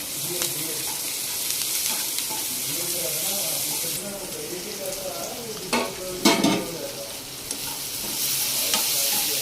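Onions browning in oil in a pan while being stirred, a steady close sizzle with scraping strokes of a spoon and a few louder clatters near the end.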